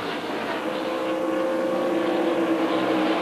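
NASCAR stock cars racing at Rockingham during the 2001 Pop Secret Microwave Popcorn 400, a steady broad roar of engines sustained throughout at moderate distance.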